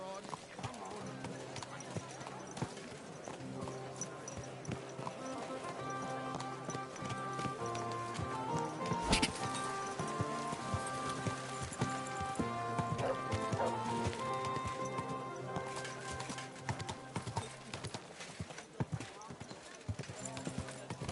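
Horse hooves clip-clop in a quick, steady rhythm in the video game Kingdom Come: Deliverance 2, mixed with other game sounds and occasional voices.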